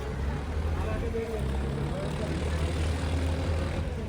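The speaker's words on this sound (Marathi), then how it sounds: "ही बघा आली, बोट आली बघा." A boat arrives fully loaded with people and vehicles, its engine droning low and steady throughout, with faint voices in the background.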